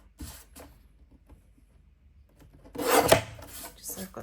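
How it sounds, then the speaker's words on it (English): A small paper trimmer cutting along the edge of a printed photo for a scrapbook page, heard as faint rasping scrapes early on and a louder, longer rubbing slice near the end. "So grab my small trimmer"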